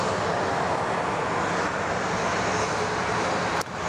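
An airplane departs northbound from Sydney Airport: a steady, broad engine roar from a distance fills the whole stretch at an even level, with a brief knock near the end and no talk.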